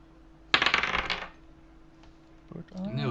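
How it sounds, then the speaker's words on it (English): Dice dropping onto a table during a Hearthstone game session, one sharp clattering tumble that rattles briefly and dies away, followed moments later by a voice. "I nearly dropped the dice again, as I'm sure you heard"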